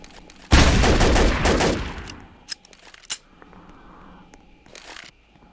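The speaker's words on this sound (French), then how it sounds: "il tire dans tous les sens" Gunfire erupts in the Roblox game SCP rbreach: a loud, dense automatic burst lasting about a second and a half, then a few sharp isolated shots and a short final volley, heard close.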